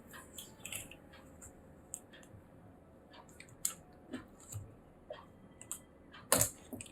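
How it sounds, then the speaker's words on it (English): Adhesive tape peeled from the screen connector of an ASUS ROG GX501VS laptop gives small close crackles and ticks, scattered and irregular, ending in one sharper snap. "so I just need to remove off this tape from the connector."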